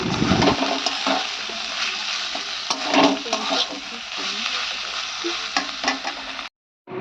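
Long beans and potato sautéing in a pan, a steady sizzle with scraping stirs, ending in a brief cut to silence.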